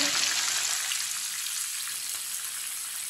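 Chicken pieces fry in hot oil for a Punjabi-style biryani, producing a continuous bubbling sizzle heard up close with no voices.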